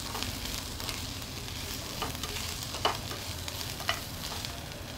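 Garlic, ginger and grated coconut sizzle steadily in hot oil in a pan, with a constant frying hiss and a couple of sharp scrapes from stirring, heard alone.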